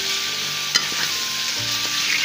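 Chicken fries in oil with half a teaspoon of salt, sizzling loudly and steadily up close, with a sharp knock of the stirring spoon near the middle and a few soft clinks after it. No one speaks.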